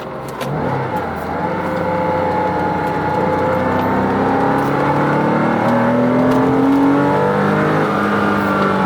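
A Porsche 986 Boxster's stock 3.2-liter M96 flat-six engine revs and drones continuously, pitch climbing and falling through several strong, rising sweeps as it accelerates, loud and close.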